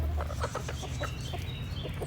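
Hens nearby give a run of soft, repeated clucks over a steady low background hum, with no talk.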